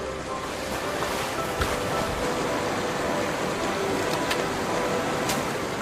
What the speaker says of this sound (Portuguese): A água abre seu caminho através do deserto.